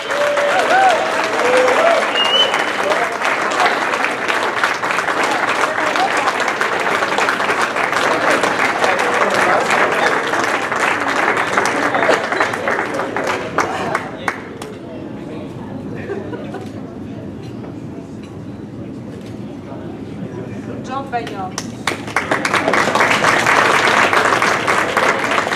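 Sustained applause from a large audience rising for an award winner at a rugby gala dinner, loud and steady with a brief dip midway before swelling again, under crowd chatter.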